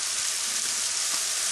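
Mushrooms frying in a pan and giving off their moisture hiss in a steady, bright sizzle, close and uninterrupted for the whole short stretch, with no voice over it.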